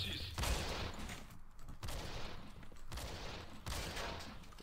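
Video game gunfire crackles in rapid bursts and volleys across a few seconds, fairly faint and continuous, with a player's voice talking briefly over it.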